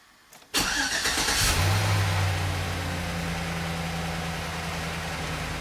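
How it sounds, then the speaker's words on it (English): A Chevrolet Silverado pickup with a cylinder misfire and a small EVAP leak starts up, its engine catching with a sharp cranking burst before settling into a loud, steady idle close by. "now I'm gonna start the engine so we can confirm the customer's complaint"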